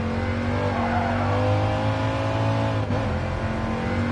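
A race car engine in Gran Turismo Sport on PS4 VR holds a loud, steady roar with a strong tone throughout, and a brief dip near the end.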